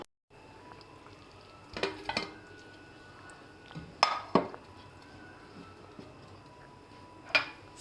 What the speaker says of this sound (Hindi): कुकर में सबसे पहले हम डालेंगे मीट।